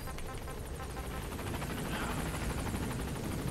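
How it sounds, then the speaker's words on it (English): A helicopter in the video game Metal Gear Solid V drones loudly and steadily, its rapid rotor chop pulsing continuously throughout with no voices over it. "I don't feel like walking, so we're taking the chopper."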